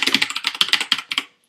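Rapid, clicky typing on a Rantopad MXX mechanical keyboard with blue switches, a close, steady burst of keystrokes for about a second before stopping.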